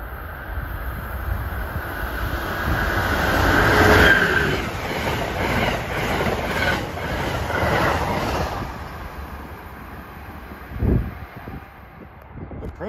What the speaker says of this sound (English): Approaching at 5:44 is Amtrak 20, the Crescent, New Orleans to New York.